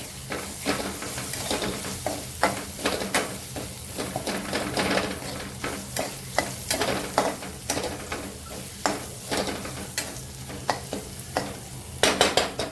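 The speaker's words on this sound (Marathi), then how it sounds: "चांगलं ते तेलावरती परतून घेणार." Turmeric, red chilli powder and garam masala sautéing in oil for dal palak, a loud close sizzle broken by rhythmic spatula scrapes against the pan, steady throughout with no talking.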